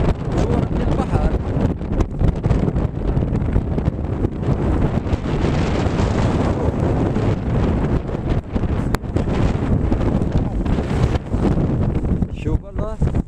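Strong storm wind buffeting the microphone on Staten Island's south beach, a dense, continuous roar with gusting surges and possible surf beneath, loud and close for the whole stretch.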